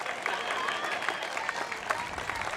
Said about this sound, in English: A big round of applause for our man, Cody.